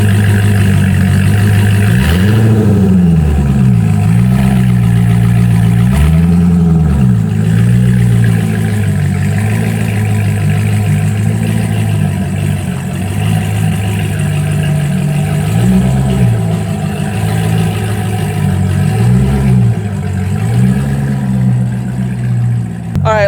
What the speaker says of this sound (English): It definitely sounds like a Corvette now.